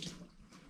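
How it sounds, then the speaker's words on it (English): Running tap water splashing briefly as hands are rinsed at a kitchen sink, a short steady wash close by. "Let me rinse my hands."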